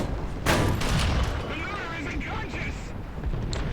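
A tank gun blasts in War Thunder Ground Forces while firing at an M2A4, one sharp loud report followed by rumbling battle noise and fainter distant impacts.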